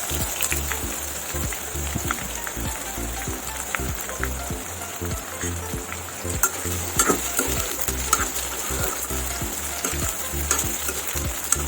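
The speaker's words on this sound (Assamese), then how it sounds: "পিঁয়াজখিনি অকণমান ৰঙচুৱা হোৱালৈ ভাজি থাকিম" Chopped onions sizzling in hot oil with bay leaf, cloves, cardamom and dried chillies for an apple chicken dish, with steady crackling and occasional stirring scrapes, close and continuous without talk.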